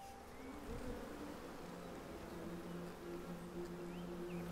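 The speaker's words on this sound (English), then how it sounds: "There is one bee blocked inside kitchen now." A single bee trapped inside a kitchen buzzes with a faint, continuous drone that holds steady throughout.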